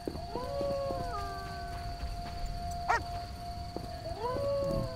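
A rabid dog in The Witcher video game howls in several drawn-out, wavering cries, with a short yip-like burst midway, set against a quiet ambient background with no talk.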